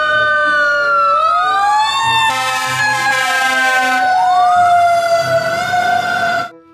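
Electronic siren from a toy fire engine wails loudly and continuously, its rising and falling tones sweeping up and down close by for several seconds before cutting off abruptly.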